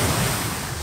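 Beach waves wash in, a broad, steady hiss of surf mixed with light wind, with no voices.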